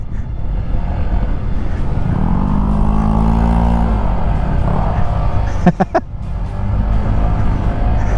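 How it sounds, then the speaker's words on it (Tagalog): A motorcycle engine labours and revs loudly while riding across the Laoag sand dunes, a steady droning roar with a rising pitch sweep midway and a brief burst of wind or clatter near the end. "Halos ayaw na umusad ng motor natin dahil nga buhangin na itong dinadaanan natin"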